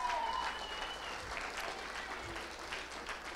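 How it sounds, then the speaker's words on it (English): A crowd at an entrepreneurship leadership series Shark Tank night applauds the judges, with sustained clapping that stays even throughout. A faint tone can be heard beneath it. "Let's give another round of applause to these incredible judges"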